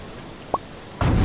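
Rain falling in the Roblox game Arcane Adventures, a steady hiss of noise with one brief tonal blip and then a louder rush of broadband rain near the end.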